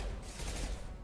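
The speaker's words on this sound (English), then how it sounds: "Taking heavy fire." Gunfire in the shooter game Mass Effect 2 crackles as a brief, dense burst of rapid shots blurred together, loud and continuous for about a second with no voices.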